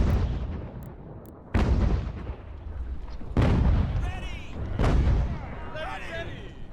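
Mortar and artillery fire booms in the video game Ultimate General: American Revolution, three or four heavy blasts spaced a second or two apart with rumbling echoes, while a voice talks over the battle.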